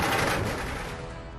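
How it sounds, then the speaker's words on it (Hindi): Fireworks set off by Ram devotees at a celebration of the Ram temple consecration, a brief dense crackling burst of rapid bangs that is loud at first and then fades away. "भक्तों ने की जमकर आतिशबाजी।"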